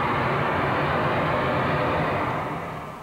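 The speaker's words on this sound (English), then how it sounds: "crews hoisted speakers simulating the sounds of airplanes near the window" Loudspeakers hoisted near school windows play simulated airplane noise, a loud, steady roar like a jet passing close, fading slightly at the end.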